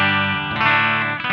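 An electric guitar plays through a T-Rex Mudhoney distortion pedal direct into an interface with a touch of spring reverb, one loud, thick, sustained distorted chord ringing alone over a brief moment.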